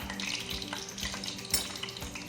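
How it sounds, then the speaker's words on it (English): Garlic frying in vegetable oil in a pot for a seafood gumbo, a steady crackling sizzle close by with faint stirring and pot clinks, no talking. "I'm going to add my garlic, and I have vegetable oil in the pot."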